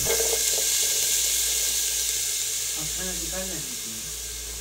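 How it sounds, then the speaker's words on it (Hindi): Chopped onions tipped into hot oil in a pan for matar pulao, giving a steady broad sizzle and hiss throughout, with a faint voice briefly murmuring beneath it toward the end. "ऑयल गरम हो तो आप इसमें प्याज ऐड कर दें।"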